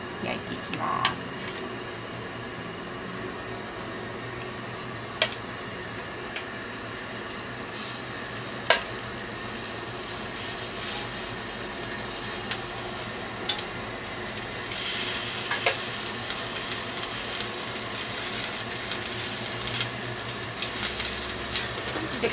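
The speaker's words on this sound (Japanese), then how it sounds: "じゃあお肉を焼いていきます。" Salt-and-pepper-seasoned spare ribs sear in an iron pan with a steady, loud sizzle and hiss throughout, with a few sharp clicks and scrapes on top.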